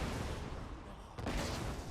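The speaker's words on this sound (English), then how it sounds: "you will see the little grenade droplets there causing explosions." A steady rumble of Borderlands 2 gunfire and blasts from the KerBlaster assault rifle's grenades, with a sharp explosion burst about midway followed by continued booming.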